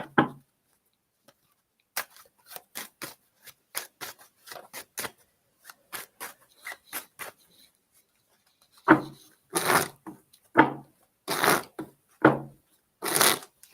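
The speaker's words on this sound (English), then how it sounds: "these cards I want to shuffle" Tarot cards shuffled by hand close up: sparse, crisp taps and riffles in irregular bursts, growing louder and busier toward the end, with no talking.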